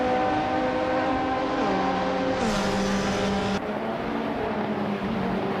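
Video game race cars, among them a 2016 Hyundai Elantra, drone with steady high-revving engine whine, the pitch shifting as gears change, loud and continuous with no talk.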